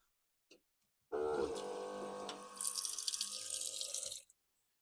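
Drinking water runs from a tap in a ute tub camping kitchen, a steady close splashing stream that starts abruptly after a brief click and stops cleanly a few seconds later.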